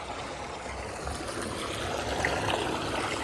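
Water gushes from a farm borewell motor pump in a field, a soft, continuous splashing and trickling that stays fairly faint and steady throughout.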